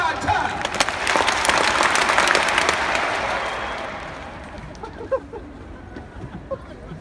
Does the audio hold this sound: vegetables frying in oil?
no